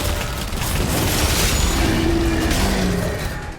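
The Impaler weapon firing in DOOM: The Dark Ages, a loud, dense blast with a deep booming body that rings on and fades slowly, no voices.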